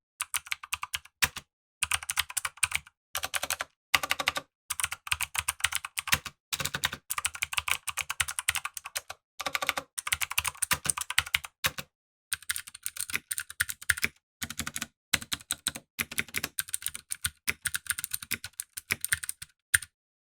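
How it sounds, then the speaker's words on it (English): Brisk, uneven clatter of clicky blue mechanical switches, Content Blues and Cherry MX Blues, on an HcMan budget mechanical gaming keyboard, typed in bursts with short pauses. The clicks are close and crisp, with no voice. "let's do a comparison here between some Cherry MX Blues and these Content Blues as well."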